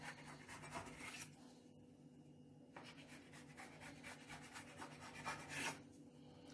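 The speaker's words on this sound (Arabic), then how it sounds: "انا هقسم المستطيل بتاع الجلاش ده ل3 قطع متساويين" A sheet of phyllo dough cut into pieces with a knife on a surface, giving a steady rubbing, scraping rasp near and fairly loud, with no one talking.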